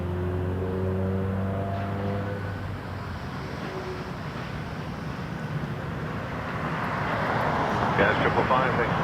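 An airliner takes off from runway 23 at Toronto Pearson airport, giving a steady broadband jet roar. Whining engine tones are clear at the start, then fade while the rumble swells and grows louder toward the end.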